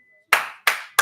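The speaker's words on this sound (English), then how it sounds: "And a round of applause for Grandma Jaquilla." Three sharp, evenly spaced claps ring out close by, each with a short echoing tail, after a moment of near-quiet with a faint tone.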